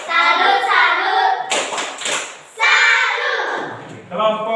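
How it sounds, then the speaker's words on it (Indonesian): A brief burst of hand clapping from a group for the volleyball match groups, set between stretches of loud, chanted voices, with a few later claps mixed into the voices. "Beri tepuk tangan untuk mereka."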